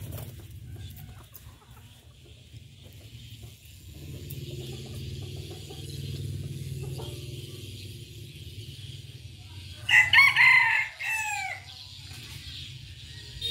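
A decoy rooster lets out one loud, close crow near the end, rising clearly above a steady low outdoor hum.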